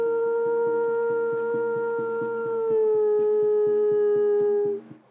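A human voice imitates a wolf howling, one long sustained tonal howl that slides slowly downward in pitch, close and loud, ending with a short fade, with no other sounds around it.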